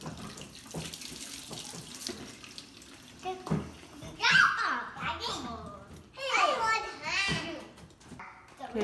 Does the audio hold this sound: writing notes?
no